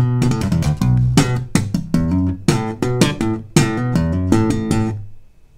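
Slap bass plays the opening two bars of a song, with sharp percussive thumped and popped notes in a syncopated pattern, loud and close, ringing out alone before fading at the end.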